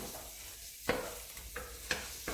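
Garlic and onions sizzle in bacon fat, loud and close, while a spoon stirs them with a few sharp scrapes and clacks against the pan.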